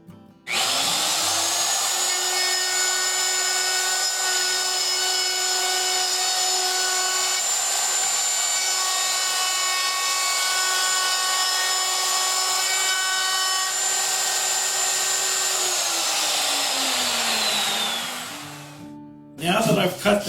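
A power tool cuts a dado into a wood workpiece held by a clamped jig, a steady high whining drone running loud and unbroken for about seventeen seconds before spinning down, with a brief clatter after.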